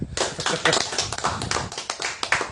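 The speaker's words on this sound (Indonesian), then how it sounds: "Tepuk tangan." Audience at a relaxed outdoor religious study gathering clapping hands, a close burst of dense, irregular claps that keep going for a couple of seconds.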